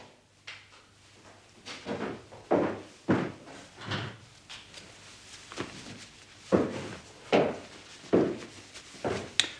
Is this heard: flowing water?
no